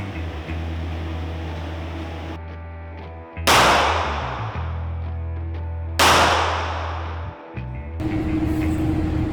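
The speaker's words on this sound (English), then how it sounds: "now we're going to try a 38 special with 2 shots to see what happens." Two loud, close gunshots from a .38 Special revolver, fired into an armored backpack panel during a police demonstration outdoors, each a sharp blast with a ringing decay, a few seconds apart over steady background rumble.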